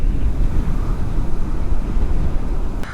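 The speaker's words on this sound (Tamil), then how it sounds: "காற்று தெரியுதா அவங்களுக்கு?" Strong wind buffets the microphone at Marina Beach in the aftermath of Cyclone Nivar, a loud continuous low rumble with gusting turbulence, no voices, and a brief sharp crackle near the end.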